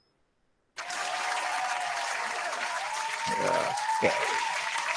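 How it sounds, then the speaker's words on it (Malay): Students in a maths class applaud for a quick answer, a sudden burst of clapping that starts after a moment of silence and continues steadily, with a brief spoken word and a couple of faint voice sounds over it. "bagi tepuk tangan sikit"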